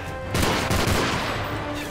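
Enemy gunfire in Modern Warfare 3 Spec Ops: loud bursts of automatic rifle fire and overlapping shots crackle continuously, with a sharp surge of heavy shooting early on that keeps going without pause.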